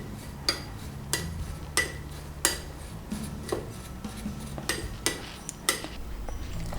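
Spoon scraping and clinking against a bowl while mixing dry spices and salt for moong dal kachori filling, a run of sharp metallic taps and rubs at an uneven rhythm, close and moderately loud with no talking.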